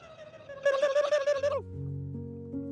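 A man imitates a turkey's call: a short, loud warbling gobble lasting about a second, followed by low sustained tones.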